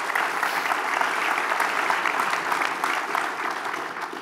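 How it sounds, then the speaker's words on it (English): An audience at a town hall meeting with the mayor claps for educators in the room, a steady, moderately loud wash of applause holding evenly for a few seconds before easing slightly. "Give them a round of applause."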